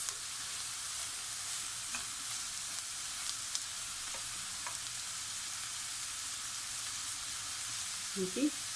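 Vegetables for borscht frying in a covered pan, a steady close sizzling hiss with a few faint clinks and a short knock near the end.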